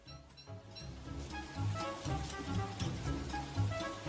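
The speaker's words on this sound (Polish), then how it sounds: "To tak naprawdę ulewa dopiero się zaczyna." Heavy rain pours steadily in a dense, hissing wash, with low rumbling underneath and no voices.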